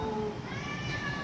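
A cat meows in a few drawn-out calls, fairly faint against steady background noise.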